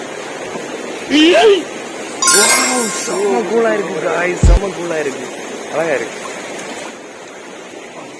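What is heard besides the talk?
stream water at Meenmutty Waterfalls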